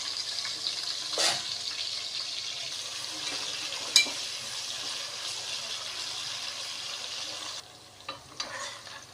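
Large onions sizzling in a pan for chicken biryani, a steady bright frying hiss with occasional sharp clinks and stirring scrapes from a utensil, close by and without talk.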